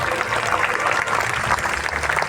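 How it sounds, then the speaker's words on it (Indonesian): A church audience gives lively applause at a talk on Eucharistic spirituality, steady dense clapping throughout at fairly close, even level. "Kita berikan tepuk tangan yang meriah."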